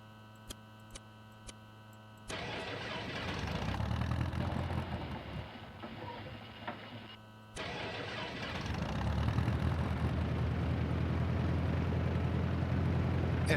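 Piper Arrow III engine in X-Plane 12 cranking and catching, then running in a steady broadband idle drone that dips briefly and resumes louder, preceded by a few faint clicks of switches.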